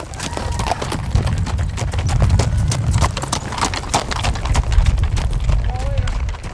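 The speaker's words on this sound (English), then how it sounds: "Wow, that's a big horse you got." Hooves clip-clop steadily on hard ground as a big horse walks past during an endurance ride in the woods, with a loud outdoor background and people talking nearby.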